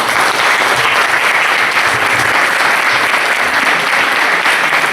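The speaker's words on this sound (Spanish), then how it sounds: "Un fuerte aplauso para él." Strong, steady applause from a conference audience at a lecture on the sacred Celtic forest, dense even clapping close and loud throughout without pause.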